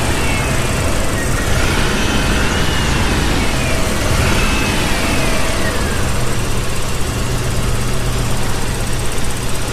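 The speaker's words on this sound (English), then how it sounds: "you hear that miss on the up rev? Yeah, that's the timing's off." A Toyota 4Runner engine running with off timing, giving a loud, steady, close mechanical drone that surges as it is revved, with a miss on the way up.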